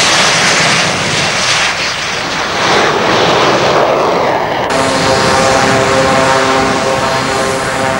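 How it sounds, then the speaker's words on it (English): A vintage Tiger Moth biplane taxis past at an aerodrome, its propeller engine a loud, steady drone that holds a droning tone as it trundles slowly by, with no talk. "A tiger moth, still going strong after all these years, trundles sedately by."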